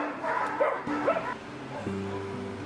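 A rescued dog makes short yips and whimpering barks, a few close, fairly loud bursts in quick succession over a background hum, with no talking.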